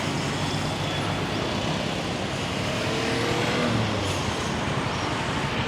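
Dense, steady traffic noise fills an unsignalled intersection in Siem Reap, Cambodia. Cars, motorbikes and larger vehicles merge into a continuous roar at close range, with no talking.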